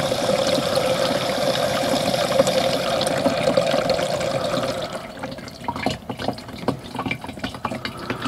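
A campervan toilet cassette is emptied into a drain, liquid gushing and splashing steadily at close range, then breaking into irregular glugs and trickles as the flow tapers.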